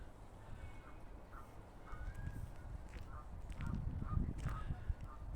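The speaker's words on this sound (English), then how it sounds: "Just hear the geese in the background." Geese honk in scattered short calls at a distance, faint against steady outdoor rumble and low wind noise at night near an old mining lane.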